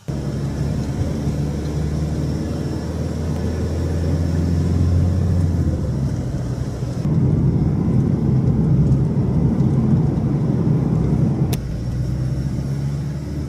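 A camper van on the road gives a steady loud engine and road rumble from inside, continuous throughout with a slight shift midway, with no talk.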